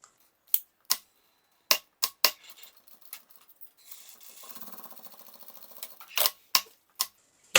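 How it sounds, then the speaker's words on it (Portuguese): A sewing machine runs a short seam on synthetic leather with a presser foot, giving a buzzing, rapid mechanical stitching burst of about two seconds amid sharp, isolated clicks and handling taps. "Vou ir na máquina agora, passar uma costura aqui com um pezinho de máquina"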